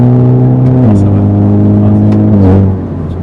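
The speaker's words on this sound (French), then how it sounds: "ça fait quand même pas mal de résonance dans la voiture" Inside a Renault Mégane 4 RS on a circuit, the engine drones loudly and resonates through the cabin, its pitch dipping and rising with gear shifts before easing off at the end.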